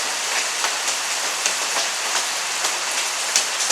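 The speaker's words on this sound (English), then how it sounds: "Let's wait until the rain is done." Steady rain falling outdoors in Arizona, a dense even patter of drops on surfaces with occasional sharper splats, continuous and fairly close, no voices.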